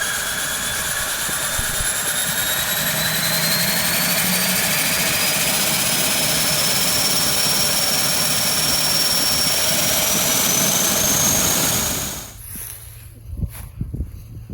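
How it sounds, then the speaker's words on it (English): A small airplane takes off down a runway, heard from about halfway along it, a loud steady engine roar with rising whine that holds for twelve seconds, then drops off quickly as the aircraft passes and leaves faint wind noise. "We stood about halfway down the runway as they took off."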